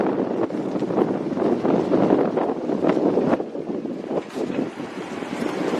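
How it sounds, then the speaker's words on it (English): Strong wind buffets an uncovered microphone outdoors at a launch-site roadside, a loud, continuous rumbling roar with gusty surges and no voices. "A lot of wind out here, everybody, and I don't have anything on the mic here."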